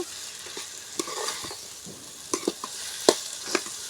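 Ridge gourd pieces frying with softened onions in a pan, a soft steady sizzle under scattered scrapes and clinks of a spoon stirring, close and moderately loud with no talk.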